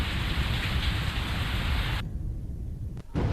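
Heavy rain pours over villages of Anjar, a dense, steady hiss of downpour drumming on surfaces for about two seconds before it abruptly thins and drops to a duller wash of rain.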